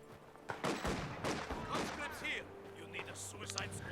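Battle sounds from Company of Heroes 2, with machine gun bursts and scattered gunshots crackling through a busy mix of explosions and game noise while someone talks over the top.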